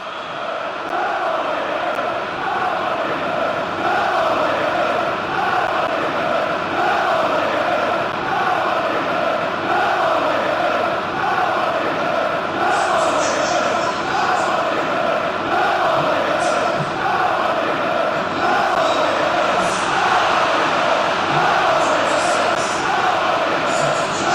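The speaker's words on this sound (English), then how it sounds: "it's good to see that the crowd appreciate his efforts" Football video game stadium crowd in an England versus Indonesia World Cup group match, a steady dense roar of massed voices swelling into warm applause for a player, loud and continuous throughout.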